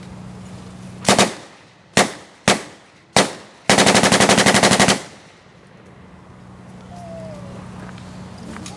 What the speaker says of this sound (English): And that's the American Thompson submachine gun.